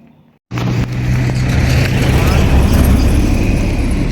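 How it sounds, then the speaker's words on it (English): Traffic on a busy street beside rural farmland in El Salvador, a vehicle rushing past loud and close after a brief quiet start, its engine noise sustained and broad. "There's traffic. So this street is pretty busy."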